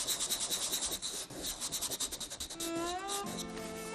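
Sandpaper is rubbed over a urushi-lacquered wooden bowl in quick rhythmic strokes, a close, dry rasping that pulses evenly, then gives way to smoother, continuous rubbing with a faint tonal squeal.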